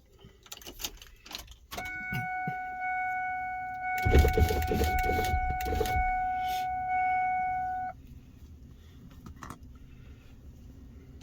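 A chime sounds, then an RV's diesel engine cranks after glow plugs are cycled and briefly catches with a rough rumble before settling, with clicks and rattles around it.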